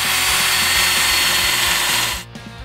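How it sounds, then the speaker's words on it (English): A power drill whines loudly and steadily into a metal cross member, close up, then cuts off abruptly near the end. "then we can go ahead and drill it."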